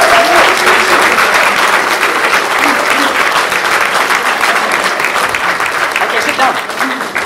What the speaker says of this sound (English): I want noise, I want clapping, I want screaming, whatever.